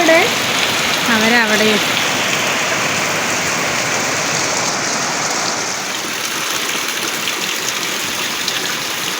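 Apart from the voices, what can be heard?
heavy rain falling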